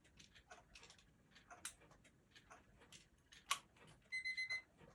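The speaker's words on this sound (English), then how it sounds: "I'll show you how the alarm sounds." A clock ticks quietly at a steady pace, then a short burst of rapid metallic alarm ringing sounds near the end.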